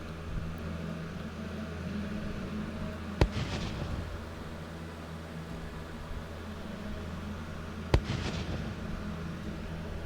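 Firework spell in a VR video game: two sharp cracks several seconds apart, each followed by a brief fizzing crackle, over a low steady background hum with no talking.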